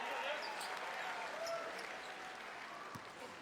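Crowd inside Margaret Court Arena at a basketball game, a steady contented murmur with scattered light applause and occasional sharp court sounds, continuous and fairly loud throughout.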